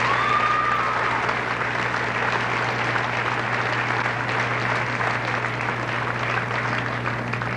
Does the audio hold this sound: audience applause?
yes